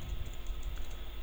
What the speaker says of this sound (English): I'll type here Gitignore